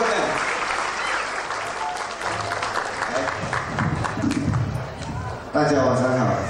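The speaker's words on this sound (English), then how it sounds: "big more round of applause once again for the both of them" Wedding guests at an evening reception applaud in a loud, sustained burst of clapping, with voices chattering through it and a speaker talking near the end as the clapping fades.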